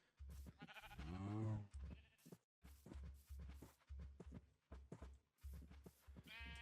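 Sheep in Minecraft give a run of bleats, one long wavering cry followed by several shorter, choppy calls spaced across a few seconds, fairly close and quiet, with no talk.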